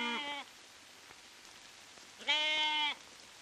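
Goats in a desert village bleat twice, a short nasal call followed after a pause by a longer, louder one, both clear and fairly close over a quiet background.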